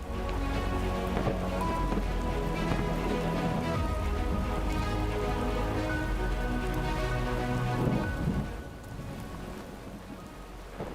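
Heavy rain pours steadily during monsoon flooding in Gujarat's Ghed region, a dense, loud, continuous hiss with low rumbling underneath that eases slightly near the end.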